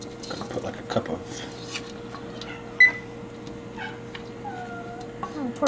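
A cat meows faintly somewhere in a home kitchen while risotto cooks on the stove, a couple of thin calls over a steady hum and light kitchen clatter.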